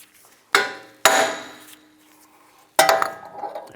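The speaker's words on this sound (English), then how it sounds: "we're just going to take a hammer and from the back side just hammer the wheel bearing off" Three loud metallic hammer strikes on a Jeep Cherokee rear wheel bearing and hub ring out, two close together and one after a pause, each with a ringing decay.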